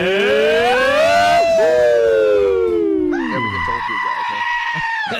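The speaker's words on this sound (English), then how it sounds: "The goat always yells." A goat yelling sound effect on a call-in radio show, loud drawn-out bleats sliding downward in pitch, then a second wavering cry, close and filling the air.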